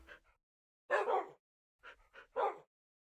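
A dog in the Minecraft video game barks in short bursts, a sharp pair of barks followed by a cluster of three or four more, loud and close against silence, with no talking.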